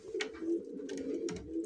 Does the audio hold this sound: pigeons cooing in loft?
yes